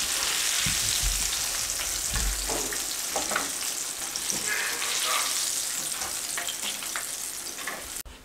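Chicken fingers deep-frying in hot oil give a steady, loud crackling sizzle, with a few stirring clatters in the first seconds and a sharp knock near the end; no one speaks.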